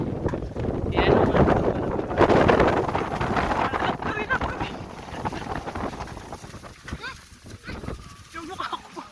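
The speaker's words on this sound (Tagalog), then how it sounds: "Grabe yung hangin." Strong sea wind buffets the microphone on a beach in Bagac, Bataan, a steady low rumbling roar with gusts running through the whole stretch, while people talk over it.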